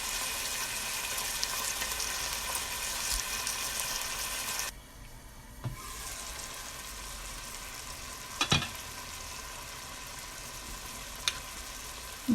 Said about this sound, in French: Je vais frire ma viande dans l'huile d'olive.